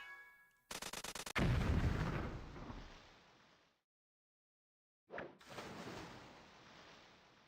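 Bombs explode in the indie game Terror of Necromancy: a quick rattling burst, then a heavy booming blast that rolls and fades to silence, followed by another sudden detonation decaying slowly.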